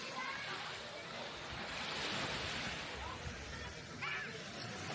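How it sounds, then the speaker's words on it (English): Waves washing onto a very small beach in Mindanao, Philippines, a steady moderate surf roar with wind buffeting, a faint voice audible under the water. "It's a very small beach,"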